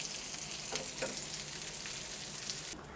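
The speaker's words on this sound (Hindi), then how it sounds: "और इसे लाइट गोल्डन हो जाने तक फ्राई कर लेंगे।" Chicken shami kababs fry in shallow oil, a steady, close sizzle with light crackles and pops that drops away abruptly near the end.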